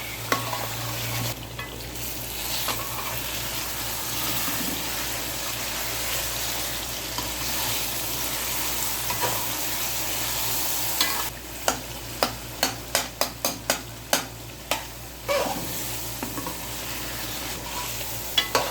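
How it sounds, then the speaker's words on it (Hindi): Mutton karahi with tomatoes and green chillies fries steadily in a pan, a continuous sizzle with stirring, and a run of sharp scraping clacks from the ladle near the end. "दो मिनट तक इसको मज़ीद फ्राई करेंगे ताकि अच्छी तरह ये जो टमाटर है ये भी मिक्स हो जाए"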